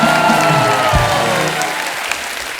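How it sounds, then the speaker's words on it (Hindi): Studio audience applause on a comedy talk show, a loud continuous burst of clapping heard up close that tapers slightly toward the end, with music or voices faintly beneath. "एक बार जोरदार तालियां हो जाएं पंजाब के शेर के लिए।"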